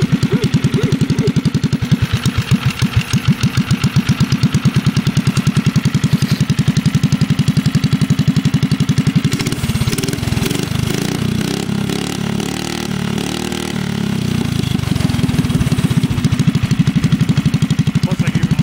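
A rat rod mini bike's small engine runs loud and close, its throttle blipped repeatedly into uneven revs over a rough, pulsing idle.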